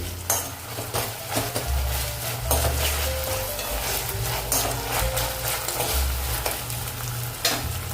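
A spoon stirs red chili sauce, soy sauce and sauce through potato Manchurian in a hot pan, steady scraping and clinking over a continuous sizzle, close and fairly loud with no talk.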